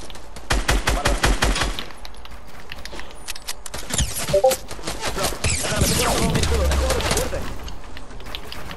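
Rapid bursts of automatic gunfire in Fortnite, crackling in quick repeated volleys early on, then scattered shots and game noise, with players talking over the action.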